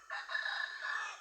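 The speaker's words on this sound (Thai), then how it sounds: "แต่ทำไมไก่ขันตอนยามเย็น" A rooster crows once in a long sustained call at evening on temple grounds in northern Thailand, fairly close and clear against a quiet background.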